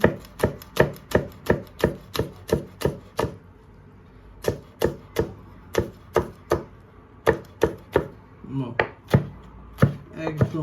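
Knife finely chopping green chilies for a mashed bharta, a fast run of sharp, close blade taps on a cutting board in quick bursts separated by short pauses, with no talking.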